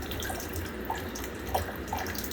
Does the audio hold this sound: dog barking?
no